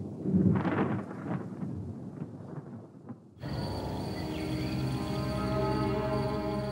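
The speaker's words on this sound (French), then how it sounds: "l'orage a grondé" Thunder rumbling in a dry storm with no rain falling: loud rolling low booms that fade, followed by a steady dense outdoor wash of noise with insect-like tones.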